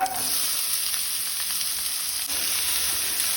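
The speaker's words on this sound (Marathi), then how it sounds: "कांदो तळसून घेवया।" Finely chopped onions, three of them, frying in two spoons of hot oil in a pan over a gas flame for Goan clams sukhe, a steady bright sizzle filling the clip without any talk.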